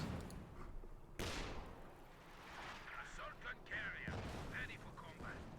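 A field gun fires in a Company of Heroes 2 battle, sharp broadband blasts at about one and four seconds, with scattered distant battle noise between them.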